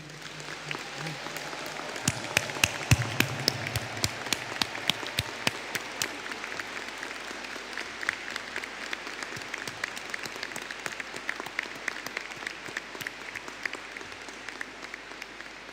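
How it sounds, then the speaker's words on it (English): Graduation-ceremony audience in a university hall claps for newly conferred science and health graduates, a long, even wash of applause with distinct nearby hand claps standing out, continuing steadily without talk. "we're going to have a massive round of applause for all of our graduates that we have just conferred"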